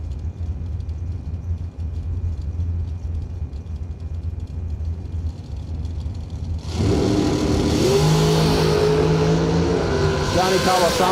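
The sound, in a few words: dragster racing down the drag strip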